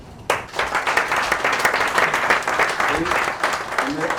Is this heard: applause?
yes